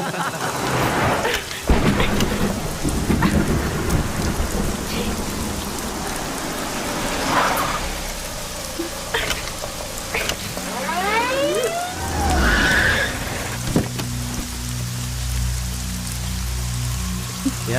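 Heavy rain pours steadily with rumbles of thunder throughout, a loud, dense wash that holds from start to finish, with a few brief tonal sweeps and passing sounds on top and no clear talking.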